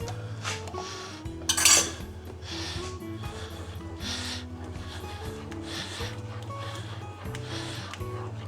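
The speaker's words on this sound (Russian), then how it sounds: "Размешаем как следует." A spoon stirs sour cream into tomato sauce in a pan for a meatball dish, scraping and clinking steadily against the metal, with one louder clatter early on.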